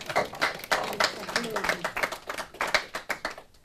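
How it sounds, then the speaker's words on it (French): Audience clapping, a run of sharp separate claps through the whole stretch, close and fairly loud, with a voice heard faintly underneath. "On s'applaudit."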